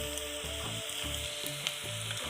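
Dried chillies, garlic and onion fry together with a ground paste in a pan, a faint, continuous sizzle with soft stirring pulses and no talk.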